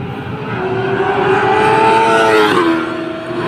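A BMW S1000 superbike screams past on a race track, engine note rising as it approaches and dropping sharply as it goes by, loud and close, then fading away.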